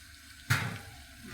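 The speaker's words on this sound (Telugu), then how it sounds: "వాటర్ వేసుకున్నాం" Water splashes into a pan of lentil curry with drumstick pieces, a sudden pour that starts abruptly, gushes loudly for under a second and tapers off into a faint simmer, with no talk.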